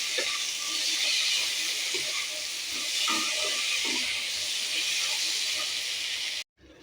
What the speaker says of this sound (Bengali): সব কিছু মশলা দিয়ে কষাতে থাকবেন।